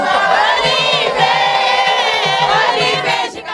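A large, dense crowd gathered at the Chikapa airfield roars and cheers a welcome, a sustained wall of loud overlapping voices and shouts with no pauses.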